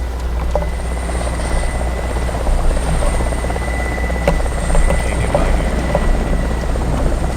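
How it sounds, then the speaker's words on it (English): Helicopter in the ArmA 2 Namalsk Crisis mod, a steady rotor drone and low thrum that holds at the same level overhead throughout, with a brief line of speech over it. "That chopper is looking for us."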